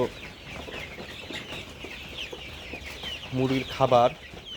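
Hens cluck softly against a murmuring background, with a short burst of louder, closer clucks near the end.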